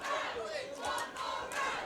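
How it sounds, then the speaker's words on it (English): Kickboxing crowd at an ISKA world title fight chanting in rising and falling waves, a mass of voices at moderate distance calling out together without a commentator over it. "The crowd asking for one more round."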